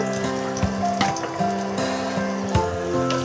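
Ginger-garlic paste and cumin drop into hot oil with fried onions in a pan, giving a steady close sizzle with small splashes and clinks, while a high tonal hum runs underneath.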